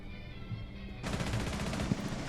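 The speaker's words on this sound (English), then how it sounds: "Yeah, it's a headshot on Cav here." Gunfire from the shooter game Rainbow Six Siege, where a headshot lands on the operator Cav: a loud burst of shots sets in about a second into the clip over game ambience, with one sharper crack near the end.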